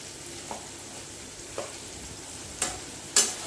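Spices stir-frying with bay leaf in a pan, a soft continuous sizzle with four distinct spatula scrapes, spaced about a second apart and getting louder, with no talk.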